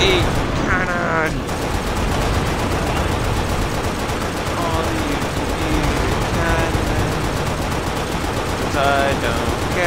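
Video game tank cannon blasting amid continuous loud battle gunfire, with bursts of rapid shots layered through a dense, constant din and a player's voice talking over it.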